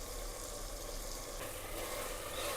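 Potatoes sautéing in a pan for sabudana potato khichdi, a faint, steady low sizzle running evenly without talk.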